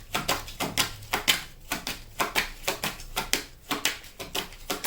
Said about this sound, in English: As I'm shuffling these cards and waiting for one to come out